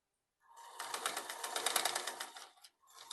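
Sewing machine stitching a kurti sleeve, a close, steady whirring run of about two seconds that stops and then starts again briefly.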